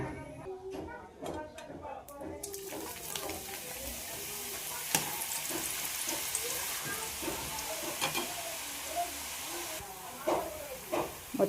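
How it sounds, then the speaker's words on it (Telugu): Samosas deep-frying in oil over a low flame, a steady broadband sizzle with faint stirring clicks and occasional utensil taps, starting quieter with a few knocks before the frying hiss swells and continues throughout. "కొంచెం బాగా ఫ్రై కావాలండి మనకు గోల్డెన్ బ్రౌన్ కలర్ అనేది రావాలి"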